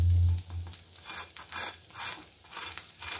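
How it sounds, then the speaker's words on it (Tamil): Cheese masala chapathi fries crisply on a pan, a soft close crackle and sizzle rising and falling in gentle waves after a brief low thump at the start. "நல்ல ஒரு கிறிஸ்பினஸ் சவுண்டு கேட்குதா"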